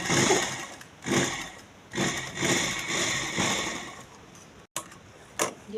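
A sewing machine stitches a circular palazzo, running in several short bursts of even mechanical whirring with brief pauses between them, close and fairly loud, with no voices.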